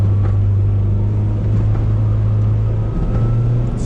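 From inside a Honda Civic Type R EK9 on a drive in Japan, the engine drones loud and steady with a strong low hum that shifts slightly in pitch toward the end.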